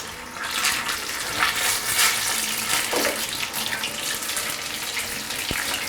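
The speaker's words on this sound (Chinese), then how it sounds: "再把所有的香菇再复炸一次" Shiitake mushrooms deep-fry a second time in hot oil, giving a steady, dense hiss and crackle that carries on without a break at close range.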